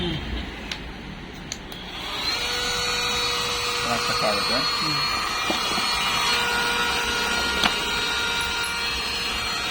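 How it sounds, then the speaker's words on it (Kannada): A two-in-one handheld vacuum cleaner that also works as a blower runs with a steady whining motor hum, close and fairly loud, starting after a couple of seconds and continuing to the end without talk. "ಒಂದು ಕಡೆ ವ್ಯಾಕ್ಯೂಮ್ ಕ್ಲೀನರ್ ಆಗುತ್ತೆ"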